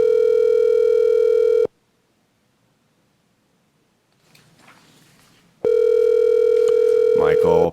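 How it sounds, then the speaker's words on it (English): A telephone call rings out in long steady electronic tones, then a gap of near silence with faint rustling before the loud tone resumes. "pick up the phone, Michael."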